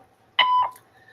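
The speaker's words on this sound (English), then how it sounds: "you can leave a message after the beep" Short electronic voicemail beep, a single clean steady tone lasting about a quarter second in an otherwise quiet phone line.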